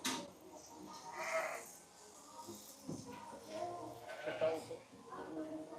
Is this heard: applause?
no